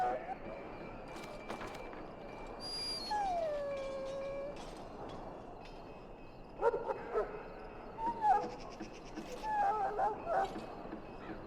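A dog whimpering and yipping in a pen in the video game Dragon Age Origins, with high thin whines and short yelps coming in bursts, quiet and close, under speech.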